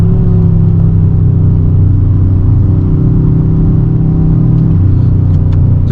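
From inside a moving Dodge Charger RT, the engine gives a loud, steady low rumble with a slight lift in pitch partway through, and no one speaks.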